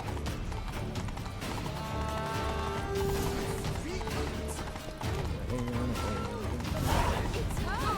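Horse hooves gallop in The Witcher 3: Blood and Wine, a steady clip-clop running under game music and voices throughout.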